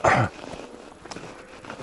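A dog barks once, loud and close, during a snowy winter walk, followed by quiet crunching footsteps and faint movement.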